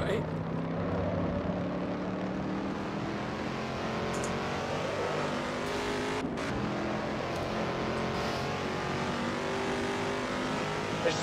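Race car engines droning on track in the racing game Assetto Corsa during a spin-out, a steady mid-level roar with a brief cut partway through.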